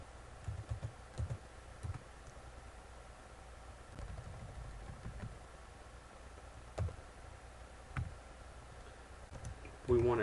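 Computer keyboard typing while entering a command in BackTrack, with bursts of close, clicky keystrokes over a steady low hum.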